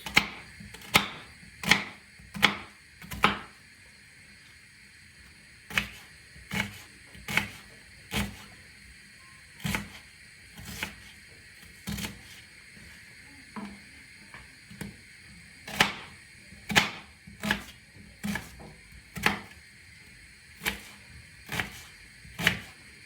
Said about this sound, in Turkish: Bir adet kuru soğanımızı yemeklik yani küp küp doğruyoruz